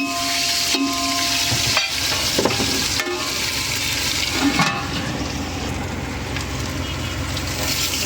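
Whole spice masala sizzles in hot oil in a pan during preparation of a pomfret fish biryani, a continuous frying hiss with occasional clinks and stirring scrapes, fairly close and steady.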